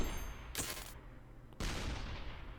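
Two sharp weapon blasts from the ShellShock Live tank game ring out, each a sudden loud burst with a decaying tail, the second trailing off longer.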